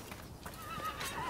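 A horse whinnies in the video game Rise of the Ronin, a rising, strained neigh over a steady background bed, with faint clip-clop hooves.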